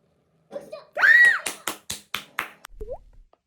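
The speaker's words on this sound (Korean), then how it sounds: "박수죠." A short run of about six sharp, separate hand claps, close and fairly loud, follows a brief high vocal squeal in a quiet setting, then fades into a soft voice.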